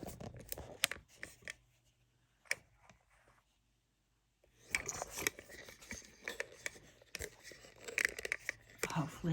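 Scissors snipping through bag material at an ironing board while sewing a Boston bag, giving a few sharp isolated cuts, then a quiet gap, then a busy run of crisp snips and rustling handling close by.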